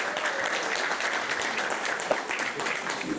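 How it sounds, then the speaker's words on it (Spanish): A church congregation applauds a worship singer at his debut, a steady wash of many hands clapping together, moderately loud and continuous for a few seconds. "pido un fuerte aplauso para él"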